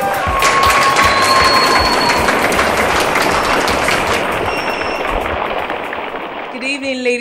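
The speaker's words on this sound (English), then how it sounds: "a round of applause to Miss Rivers once again" Loud, sustained applause and cheering from an audience greeting Miss Rivers, Ruby Williams, representing River State at a pageant-style stage event, dense clapping throughout that thins slightly toward the end, with a voice and tones entering at the close.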